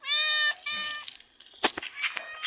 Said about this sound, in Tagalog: Ayun yung pusa niya naghihintay